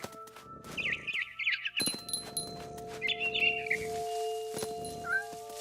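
A barn swallow chirps outside a window in What Remains of Edith Finch, giving two bursts of rapid twittering over sustained musical tones, broken by a few soft knocks and thuds.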